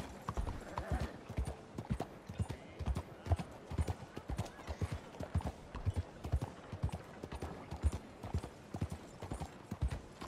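Hooves of a horse galloping through a town in the video game Red Dead Redemption 2, a quick steady clip-clop rhythm throughout with faint speech underneath.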